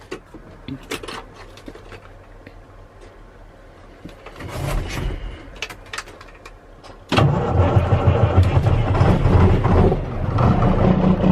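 A track loader's diesel engine cranks through several weak turns, then catches at about seven seconds and settles into a loud, steady rumble close by.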